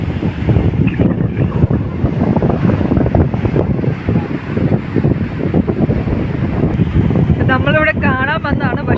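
Strong wind and rain at a seashore roar loudly and steadily, buffeting the microphone with heavy rumbling gusts, and a voice is briefly heard near the end.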